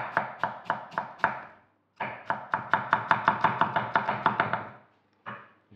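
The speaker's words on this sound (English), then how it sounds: "So slice your onions as thinly as possible" A knife thinly slices red onion on a cutting board, quick rhythmic chops in three runs split by short pauses, crisp and close, with no voices.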